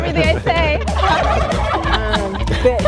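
Heritage turkeys on a turkey farm gobble loudly and close by, many overlapping, warbling calls piling into a dense, continuous chorus.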